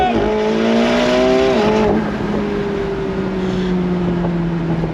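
McLaren 750S Spider, a 2024 supercar, accelerating hard on throttle, its engine note climbing steadily in pitch and then shifting, loud and close throughout with no talk.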